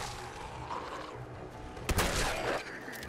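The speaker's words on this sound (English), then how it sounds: "So, let's try out the shotgun." A legendary shotgun fires at ghouls in Fallout 4, one heavy blast cutting through a busy game background about two-thirds of the way in.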